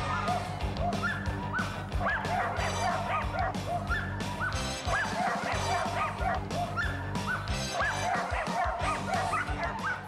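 Several border collies bark and yip excitedly at a flyball relay race, two teams of four dogs on a 51-foot course, with dense, continuous overlapping barks, whines and crowd noise throughout.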